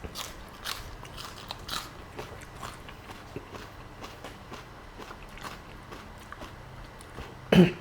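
Crunchy fried pork is chewed up close, with repeated sharp crackling bites in an irregular rhythm over quiet background.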